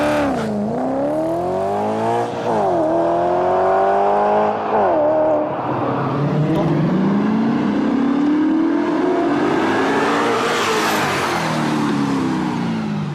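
An Audi RS4 fitted with a Magnaflow exhaust system and X-pipe revs hard, its engine note climbing and dropping in loud repeated pulls, then rising into a long howling acceleration, close and without talk.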